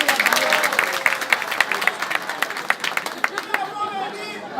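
A pageant crowd applauds a finalist with a burst of clapping mixed with cheers and murmuring chatter, dense at first and thinning out toward the end as voices carry on underneath.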